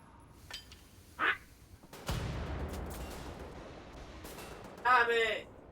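A grenade blast in Wolfenstein: The New Order breaks out suddenly from near quiet, followed by a long rumbling noise that fades slowly, with brief bursts of other game sounds around it.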